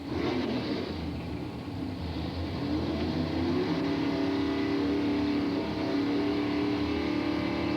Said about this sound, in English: Right lane, Wayne Majors driving his 69 Camaro, 460 plus cubic inches of big block RAV motor.